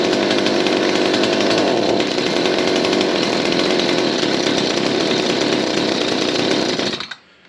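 A Craftsman chainsaw engine warms up at a steady, loud, close buzzing idle for several seconds before cutting off abruptly at the end, with no talking.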